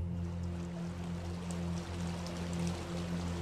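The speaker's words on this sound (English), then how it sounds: "I can hear the running water." River water runs in an old cartoon, a soft continuous rushing wash under a low steady tonal hum, moderately faint and without pauses.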